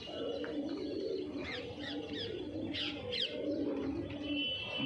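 Punjabi Malwai pigeons coo softly in a loft where a ringed hen sits behind, a few low repeated coos over steady background murmur and faint chirps.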